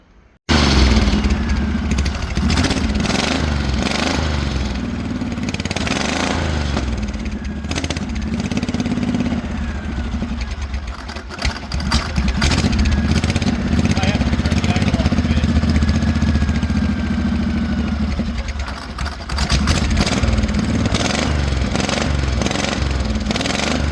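A V-twin go-kart engine on a rat rod roadster runs steadily and loudly throughout, with a rough, throbbing idle that revs up and down at times, no talking over it.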